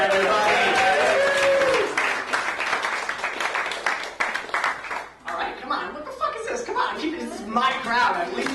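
Comedy club audience applauding a comedian being introduced on stage, with dense clapping and cheering that fades after a few seconds as a voice starts talking over the dwindling claps.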